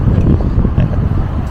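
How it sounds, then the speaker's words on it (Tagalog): Strong wind buffets the microphone outdoors near a harbour in Naha, Japan, with ships nearby and rain threatening, a loud continuous low rumble and roar with no one speaking. "Yun ang hangin ngayon."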